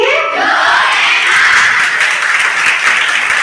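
An audience at a book launch event applauds, a dense, loud wash of many hands clapping at once that holds steady for a few seconds, with no voices on top.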